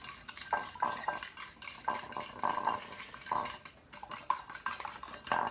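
A utensil scrapes and clinks against a mixing bowl as egg is stirred into coconut macaroon batter, close and irregular strokes repeating every half second or so, with no talking.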